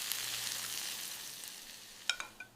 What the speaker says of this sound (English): Oh, the beef is sizzling so nicely.